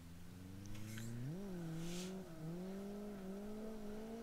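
A car engine in a racing video game revs at a steady drone, dips briefly as it shifts into the next gear without the clutch, then carries on. The sound is quiet and even, with no talking.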